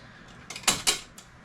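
A ratchet with an 11 mm deep socket working a bolt loose on a car engine, two or three short close clicking pulls followed by a faint final tick, quiet room, no talk.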